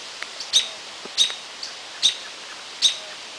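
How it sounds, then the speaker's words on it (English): A young great horned owl just out of the nest gives four sharp, high chirping calls at regular intervals, close and clear over a soft background hiss. "We come upon this baby great horned owl."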